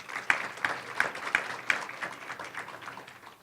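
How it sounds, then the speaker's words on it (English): Audience applause at a diversity think tank panel, a spread of quick claps at moderate volume filling the space for a few seconds after a panelist's introduction. "Please give her a round of applause."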